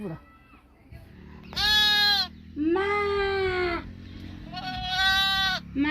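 Goats bleat in three loud, drawn-out calls, close by in a farm field, separated by short pauses, with a faint voice underneath.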